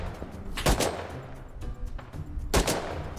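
Gunfire with explosive ammunition in the survival video game Rust, two loud sharp bursts about two seconds apart over a low background rumble.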